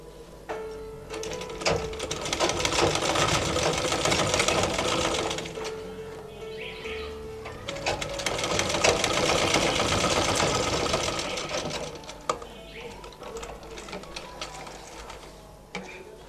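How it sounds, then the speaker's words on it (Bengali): Sewing machine stitching a half collar with a zipper on a dress: two long runs of fast, steady motor-driven stitching with a brief pause between them, then a short stop and a final burst of stitching, heard close. "এই পাশটা একই রকম ভাবে আমি সেলাইটা করব"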